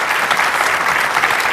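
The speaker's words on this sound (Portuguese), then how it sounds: "Um aplauso para os dois" A studio audience on a television morning show bursts into loud, close applause for two guests, a thick, even burst of many hands clapping with no voices over it.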